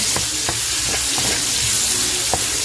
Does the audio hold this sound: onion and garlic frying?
yes